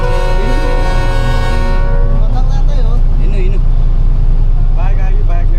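A JCB excavator passes close on a mountain road along the Panchpokhari trek, with a loud droning engine whose rising whine fades into rumbling road noise while people talk over it.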